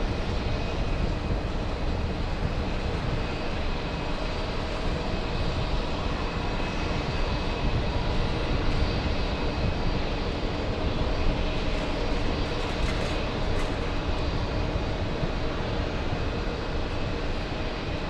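A JetBlue airliner lands on runway 13 left at JFK airport, its engines a steady, fairly loud broadband roar that continues throughout without talk.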